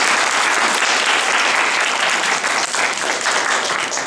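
A convention audience at a karuta demonstration claps for the reader in a dense, steady round of applause that fills the whole stretch without a break.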